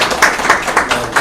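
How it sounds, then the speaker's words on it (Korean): A Korean financial and tax forum audience gives a brief burst of clapping, several sharp claps close together in a short round of applause. "박수 한번"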